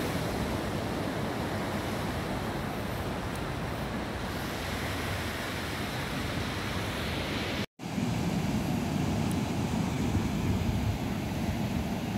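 Waves roll onto Shek O beach in Hong Kong as a steady, rushing surf wash. Wind buffets the microphone throughout, and there is a brief dropout partway through before the roar resumes slightly louder.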